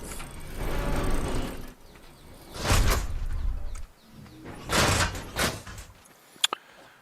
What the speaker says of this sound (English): the big doors to let the dinosaurs in and out at the end